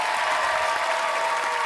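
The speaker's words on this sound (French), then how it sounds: "je voudrais qu'on applaudisse Carole très fort" Studio audience applause at a French television game show, a dense, loud burst of clapping from a crowd that holds steady throughout the short moment with no voices on top.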